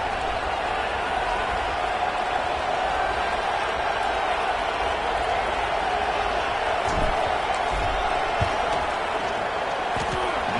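Steady, dense roar of a virtual stadium crowd in the College Football 26 video game as a big field goal attempt is set up, loud and continuous throughout with scattered thumps and faint voices in the mix.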